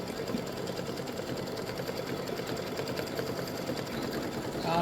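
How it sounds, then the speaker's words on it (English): A sewing machine running steadily at close range as it satin stitches the edges of a fabric tic-tac-toe board, a continuous fast mechanical hum and rapid needle clatter with no talking. "we're just about finished with the satin stitch around the edges"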